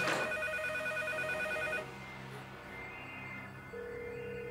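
A telephone ringing, a loud close electronic ring that sounds for under two seconds before it cuts off, leaving a quieter steady tone and background hum.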